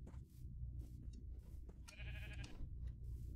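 A Minecraft sheep gives a short wavering bleat partway through, heard over a steady low background rumble, fairly faint and alone without talk.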